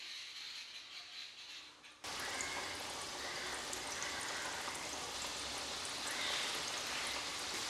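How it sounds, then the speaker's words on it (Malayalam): Pieces of cake dropped into hot oil burst into a loud, steady crackling sizzle that begins abruptly partway through and continues unbroken, with no talking. "ആ ചൂടായ എണ്ണയിലേക്ക് നമ്മളിവിടെ തയ്യാറാക്കി എടുത്ത ഓരോ കേക്കും ഇട്ട് കൊടുത്ത് ഫ്രൈ ആക്കി എടുക്കുക."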